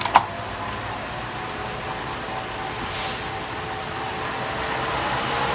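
Direto electronic bike trainer being pedaled, giving a steady, even whir with a windy hiss and faint tonal hum that holds for the whole stretch, with no talking.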